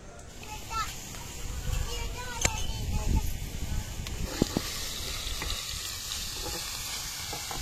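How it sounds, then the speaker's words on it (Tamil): Food sautéing in a pan on an outdoor terrace until it turns transparent: a steady sizzle and frying hiss with occasional scraping stirs and clinks, while voices talk faintly in the background. "நல்லா டிரான்ஸ்பரண்ட் ஆகிறதுக்கு வதக்கணும் மம்மி"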